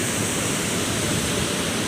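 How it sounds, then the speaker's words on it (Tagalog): Strong river current rushing below Wawa dam on the San Jose river in Rodriguez, Rizal, swollen by rainy-season flow; a loud, steady, close roar of churning water with no break and no voices. "medyo maingay na banda rito kasi may kalakasan na alon"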